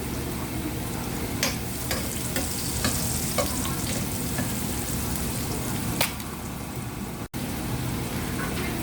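Onion sautés in a pan for ginisang upo, giving a steady close crackling sizzle with scattered pops and stirring clicks, and no talking.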